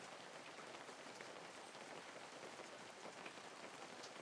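Rain falls steadily in an even, dense patter and hiss, constant and unbroken with no voices and no thunder.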